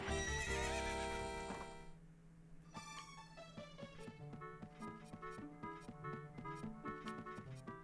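A horse whinnies loudly in The Legend of Zelda: Ocarina of Time, its call falling off into game music with plucked, rhythmic notes.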